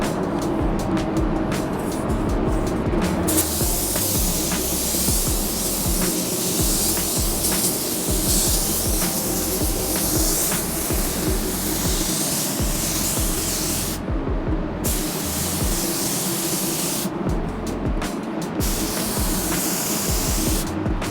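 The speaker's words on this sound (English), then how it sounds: "This should excel at control coats because it sprays very nice and soft." A Porphis spray gun lays down a control coat of paint, giving a steady, loud hiss of atomized spray that runs almost continuously, with a few short breaks where the trigger releases. No one talks.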